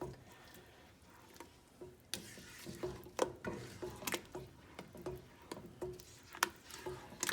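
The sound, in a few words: stirring broccoli cheddar soup with a flat spatula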